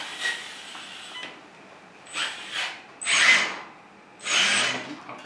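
A JDMODEL 1/14 scale hydraulic metal RC excavator's electric motor spins in four short whirring bursts, each rising and falling. The bursts come close by with brief quiet gaps between them, and there is no talk.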